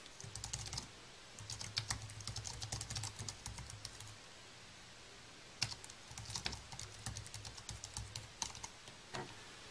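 Typing on an Apple USB keyboard hooked up to an iPad through a powered USB hub: quick, close clicky key taps in two bursts with a short lull between, over a faint low hum.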